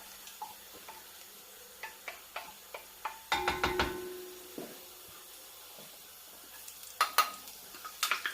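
Basil stalks sizzle and crackle in a pan for a tomato sauce, with a series of sharp clicks and taps from stirring, plus a brief louder hissing burst midway.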